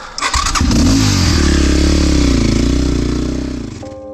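A tuned, ported 172FMM motorcycle engine revs hard on a road test ride, a loud, close, sustained roar that climbs and holds its pitch for several seconds before easing off at the end.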